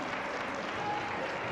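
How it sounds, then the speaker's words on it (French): A brief wash of crowd applause for the officials at a roller derby bout in an indoor arena, a diffuse steady clatter of clapping heard from a distance. "C'est peut-être le moment d'applaudir les officiels"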